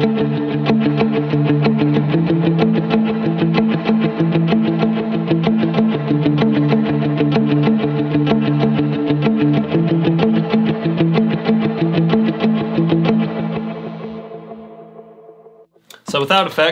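Electric guitar playing the verse of Revival's in the Air with the tone rolled up through distortion, chorus and echo effects, a loud, sustained, shimmering strummed wash that fades out near the end.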